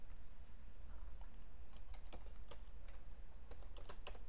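A terminal command is typed on a computer keyboard as a quick, uneven run of close, crisp key clicks over a low steady hum.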